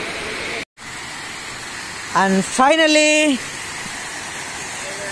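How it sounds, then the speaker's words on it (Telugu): Gandikota waterfall: steady, broadband rush of falling water runs through the whole clip, briefly cut out near the start, while a voice speaks over it. "మన గండికోట జలపాతానికి వచ్చేసాము"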